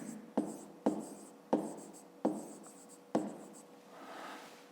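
Pen or marker writing numbers and units for a fifth-grade math exercise on segment lengths, heard close up as five sharp scratchy strokes with pauses between, ending in a softer, longer scrape, with no talking.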